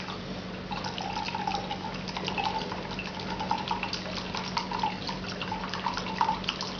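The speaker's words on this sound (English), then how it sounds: "Now I'm going to use a vodka. This is a imported vodka from Eastern Europe, and I'm going to add" Imported Eastern European vodka pours steadily into cognac, a continuous trickling, splashing stream with light drips, close and moderately quiet.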